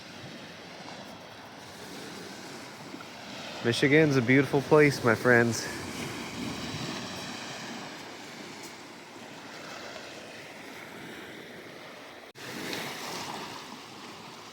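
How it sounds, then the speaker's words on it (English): Lake Michigan surf washing onto a beach, a steady broad rush of breaking waves with wind over it. Someone speaks briefly partway through. "Got the waves making beautiful sound."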